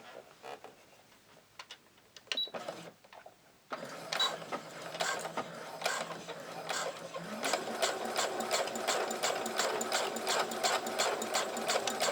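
A sewing machine stitches with a twin needle, first in short bursts with gaps, then running steadily in a fast, even mechanical ticking rhythm, close and clear with no talking.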